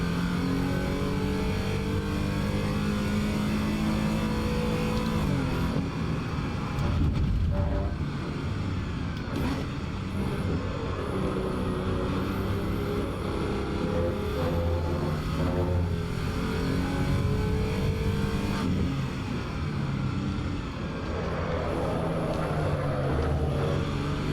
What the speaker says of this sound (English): so boot full of throttle to get out of the gravel